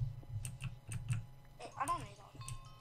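A computer keyboard is tapped in a quick cluster of soft clicks near and faint, with a brief voice-like sound partway through.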